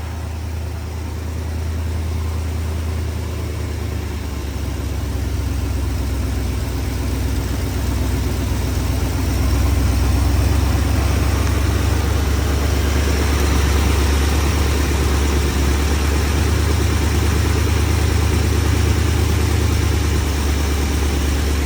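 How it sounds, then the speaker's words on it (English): A 1969 Dodge Dart with a 318 V8, built for racing after sitting 22 years, idles steadily and loudly after starting, a deep continuous rumble with a slight swell partway through, no voices. "I'm actually really surprised how well this 340, for racing purposes, 318 runs"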